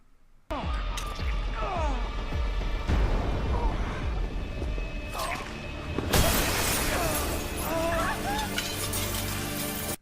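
Glass shatters in a movie scene as a man falls through a store window into a bookstore. A loud, sudden crash bursts out midway amid busy scene noise, with no talking.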